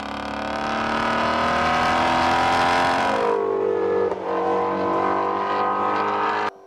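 A trombone imitates a Ford Mustang GT350 engine, loud and close, with a rich rising rev that drops into a lower, rougher growl and then cuts off abruptly.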